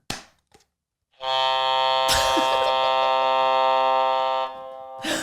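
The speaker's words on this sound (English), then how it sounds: "I was waiting to press this buzzer all week." A loud, sustained electronic buzzer blares for several seconds after a couple of short clicks, then cuts off.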